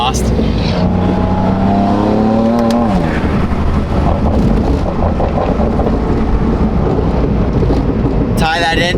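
A BMW M4 fitted with a new aftermarket exhaust revs loudly close by, its engine note rising and then falling back into a steady heavy roar, with wind buffeting the microphone.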